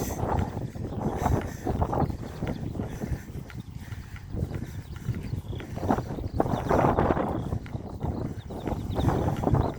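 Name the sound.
wind outdoors on an afternoon walk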